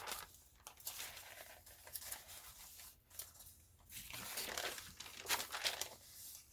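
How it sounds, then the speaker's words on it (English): Sheets of tracing paper are handled and crinkled, producing bursts of crisp rustling and crackling that swell and fade close by, with brief quiet gaps between handlings. "So this is tracing paper."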